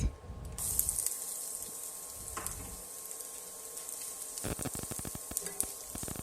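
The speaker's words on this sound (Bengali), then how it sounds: "ঘি আর তেলটা গরম হয়ে গেলে এর মধ্যে অ্যাড করে দেব পাতলা করে কেটে রাখা পেঁয়াজ" Thinly sliced onions drop into hot ghee and oil, bursting into a sharp crackling sizzle that settles into a quieter steady fry, followed by a run of rapid clicking stir strokes near the end, close by with no speech.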